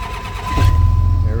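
A 2004 Dodge Ram 2500 third-generation truck with a 5.9 Cummins diesel and a freshly replaced starter cranks and catches, settling into a loud, steady low idle rumble after a brief starting burst.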